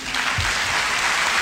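An audience applauds the fifty best pupils of the Lycée sénégalais de Banjul in Gambia. The clapping is loud, dense and continuous throughout.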